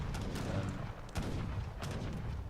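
Mortar firing on enemy barracks in a real-time strategy video game: a few heavy booming shots at irregular intervals, loud over a constant dense rumble of battle noise.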